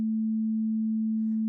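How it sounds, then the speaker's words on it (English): A stereo sine wave from the BLEASS Fusion plugin with the effect switched off, a single pure steady tone held at constant loudness, with a faint trace of something else just before the end. "stereo sine waves in the scope"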